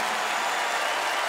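Short burst of steady applause from a standing church congregation on a Sunday, dense and even throughout with no speech on top.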